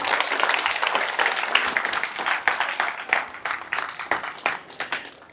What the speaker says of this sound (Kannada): ಗಟ್ಟಿ ಕೊಟ್ರೆ ಚಪ್ಪಾಳೆ